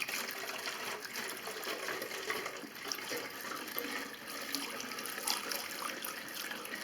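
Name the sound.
petrol being poured into a container for chainsaw mix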